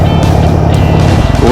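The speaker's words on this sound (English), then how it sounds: "I like that vibrating sound and kind of the bike is shaking around." Low rumbling engine of a 2016 Harley-Davidson Sportster Iron 883 idling close by, a steady throbbing vibration with a slight rhythmic pulse near the end.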